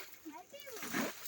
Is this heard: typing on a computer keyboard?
no